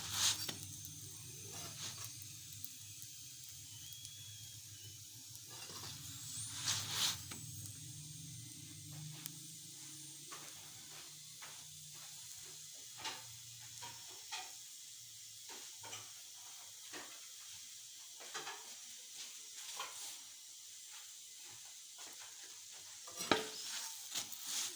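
A stuffed radish paratha cooks on a pan over low heat, giving a soft, continuous sizzle broken by scattered crackles and a few sharper pops, close by with no talk.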